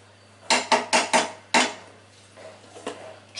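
Polao rice is flipped over with a utensil in a hot pan, giving five sharp metallic clanks in quick succession, then a few softer scraping taps, close by with no talk.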